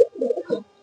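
A single short pigeon coo, a soft low throaty warble, close by and alone, fading quickly into quiet.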